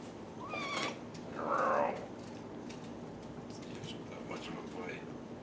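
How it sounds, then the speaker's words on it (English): A cat gives one loud, drawn-out meow with a few softer mewing sounds before and after, close by, while faint voices murmur in the background. "Cat."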